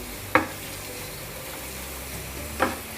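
Vegetables frying in a pan for white sauce pasta give a steady close sizzle, broken twice by sharp scrapes of a spoon stirring, with no voices.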